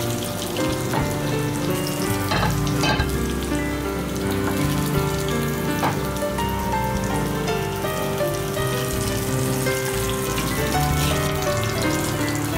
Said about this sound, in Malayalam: ഇങ്ങനെ കുറേശ്ശെ കുറേശ്ശെ രണ്ട് സൈഡും തിരിച്ചും മറിച്ചു വിട്ട് നമ്മൾ ഫ്രൈ ചെയ്ത് കഴിക്കും.